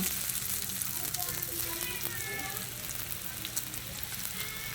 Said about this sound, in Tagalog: Magluto tayo ng lumpia.